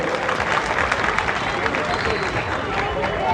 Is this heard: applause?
yes